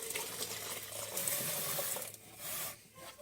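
Milk pours in a steady, trickling stream into waffle batter in a blender, a soft continuous splash that briefly eases off near the end, with no voices.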